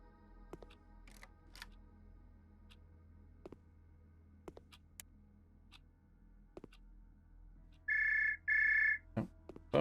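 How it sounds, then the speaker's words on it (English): Two short electronic telephone rings in the video game The Shattering, sounding late after quiet ticking of clocks and small clicks in a small apartment. "Oh, phone's ringing."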